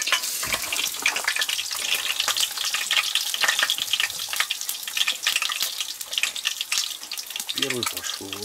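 Steady, crackling sizzle of food frying in a pan over a stove on winter ice fishing in Yakutia, continuous throughout, with a brief low voice near the end.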